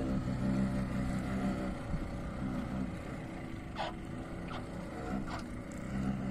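A fishing boat's outboard motor drones low and steady for several seconds during net fishing for mackerel, a continuous rumble with a few brief higher scrapes or splashes over it and no voices.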